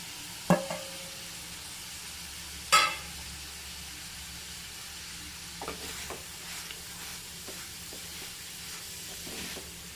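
Chopped okra, added to onions in a pan for a curry, fries with a faint steady sizzle, with a couple of sharp clanks of a utensil early on and a few soft scraping stirs later.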